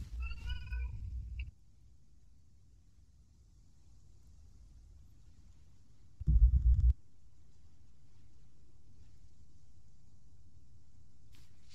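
A person imitates a cat with a short series of rising meows at the start, then a low rumble and quiet background over a voice chat during an Arma 3 session.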